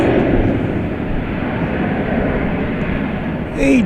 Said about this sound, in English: this once again is Qantas Flight 8